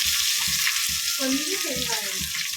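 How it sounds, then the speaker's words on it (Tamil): Mustard seeds hit a little hot oil in a pan and give a loud, steady crackling sizzle at close range, with bursts of popping and spitting that pick up partway through. "புளி ஒரு நம்ம பேன் வச்சு கொஞ்சமாக ஆயில் ஊற்றிட்டு கடுகு போட்டுடணும்"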